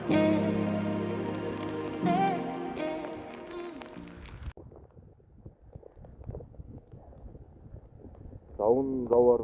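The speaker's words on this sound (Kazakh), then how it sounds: "Жауын жауарын доғарар емес." Steady rain falls on a felt yurt, heard as a soft patter of scattered drops once a loud voice stops partway through; another voice returns briefly at the end.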